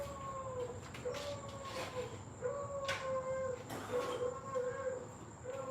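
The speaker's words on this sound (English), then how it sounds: "Yes, that's the dog next door." A neighbour's dog howls repeatedly in long wavering rising-and-falling tones, heard at a distance through a steady background hum with no talking.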